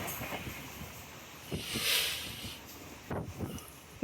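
A passenger train rumbles and hisses steadily on the Narsapur to Vijayawada line, with rhythmic wheel clacks on the rails and a brief metallic squeal midway.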